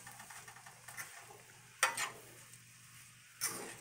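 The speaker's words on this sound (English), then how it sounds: "You want to stir everything together." Fried rice is stirred in a pan with a soft, quiet sizzle. Two sharp scrapes of the utensil against the metal stand out clearly.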